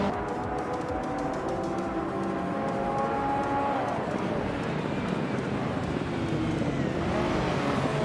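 Race cars lapping the Sepang circuit, among them a 1987 Buick GNX, give a steady, moderately loud engine drone with rising and falling tones throughout.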